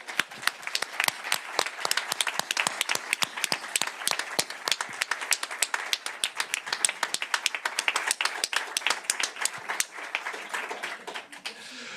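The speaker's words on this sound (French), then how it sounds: "on va faire cette photo sous une dernière salve d'applaudissements" A closing round of applause at an association's general assembly, many people clapping in a crisp, sustained patter for twelve seconds, close and lively throughout.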